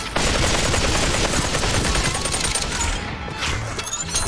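Dense, continuous gunfire in the VR shooter Population One, loud and close with overlapping shots running nearly the whole time and no pause between bursts.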